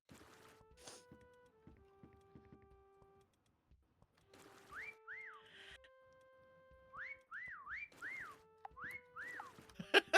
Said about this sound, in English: somebody is hiding right next to me and whistling